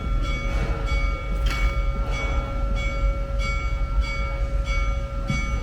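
Amusement park train at Busch Gardens Tampa on the Serengeti Express line, a steady rumbling engine drone with a sustained tonal hum and periodic soft clanks as it starts to depart, fairly close, no talking.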